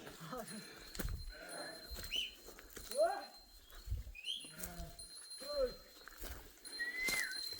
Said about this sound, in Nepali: ल यसरी सार्छ हाम्रो भेडा गोठ